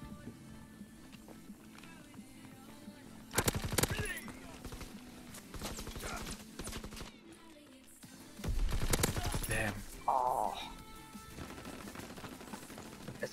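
Gunfire from Call of Duty WWII multiplayer Domination, two bursts of rapid automatic shots plus a few single cracks over quieter in-game ambience, with a player talking in between.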